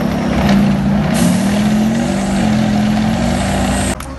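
A heavy military vehicle rolls up nearby and comes to a stop, its loud engine droning steadily before a brief hiss of brakes near the end.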